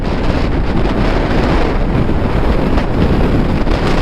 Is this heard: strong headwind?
yes